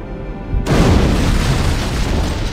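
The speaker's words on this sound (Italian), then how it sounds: "Direi una carica antimateria" An antimatter charge explosion strikes a ship in the Halo video game, a sudden loud, deep boom that breaks in abruptly and rumbles on heavily without fading.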